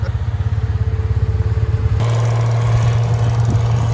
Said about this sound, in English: Gotta love the sound of that motor